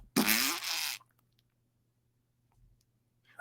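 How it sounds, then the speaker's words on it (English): Fart noise played as a sound effect, a single loud wet burst with a rising pitch lasting under a second, then near silence with a low steady hum underneath. "my sound effects, fart noises"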